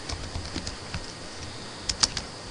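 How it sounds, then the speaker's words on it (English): Keystrokes on a computer keyboard while an SQL select query is typed, faint and sparse with a short cluster of sharper clicks near the end, no speech. "I should type select"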